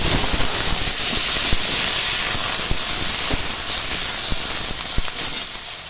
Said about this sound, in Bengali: আলুগুলোকে লাল লাল করে ভেজে তুলে নেব।